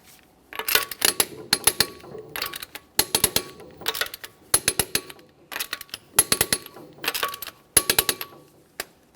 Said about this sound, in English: we'll be torquing each of our 21mm lug nuts to 80 foot-pounds in a crisscross manner